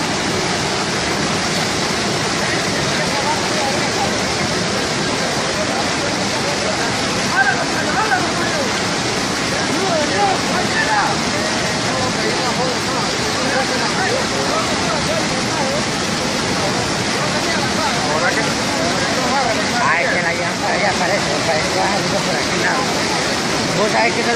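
Floodwater of a swollen river in El Rama, where a truck has overturned midstream, roars as a dense, continuous rush, loud and close throughout, with voices faintly mixed under it.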